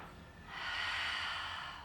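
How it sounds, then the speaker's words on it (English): One slow, deep breath during a stretching session, a soft airy inhale that swells and holds near the microphone in a quiet room. "Take 2 big breaths from me"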